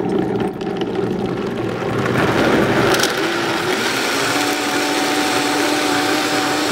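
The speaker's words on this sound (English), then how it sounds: "turn the machine on and increase the speed to variable 10, flip the switch to high, and blend for about 10 to 20 seconds." A Vitamix blender runs at high speed mixing potato cheddar bake ingredients, a loud close steady whirring roar that climbs in pitch early and then holds constant with no talk.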